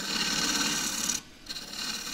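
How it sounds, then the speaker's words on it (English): A lathe turning tool shear scrapes the inside of a spinning wooden eggcup, a close, steady rasping hiss that drops out briefly as the tool lifts, then resumes, with no talk. "really shear scrape that to get myself a smooth surface"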